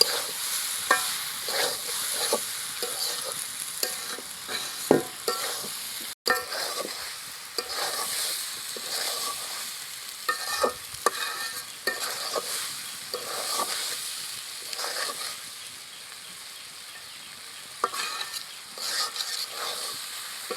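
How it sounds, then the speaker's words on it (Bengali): Jackfruit curry with crushed coriander stir-fries in a pan, a continuous sizzle and hiss broken by frequent scraping stirs and spatula knocks, close and fairly loud for about twenty seconds. "এখন 7 থেকে 8 মিনিট কষিয়ে নিব।"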